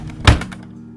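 Drawer in a video game slides and stops with a single solid thunk, short and loud, followed by a faint hum.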